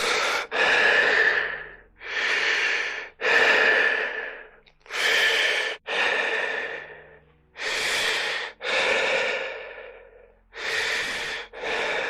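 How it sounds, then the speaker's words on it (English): A man breathing anxiously in a tense horror scene, with a run of loud, close, ragged breaths and sighs in quick bursts, roughly eight heavy inhales and exhales separated by brief pauses, no speech. "He started breathing anxiously."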